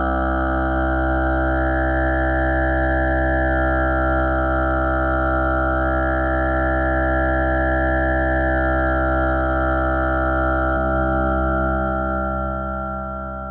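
A PPG Phonem overtone vocal drone synth with a fat reverb holds a loud, sustained, harmonically rich tone whose upper overtones slowly glide and shift, washing steadily and then fading slightly near the end, with no talking.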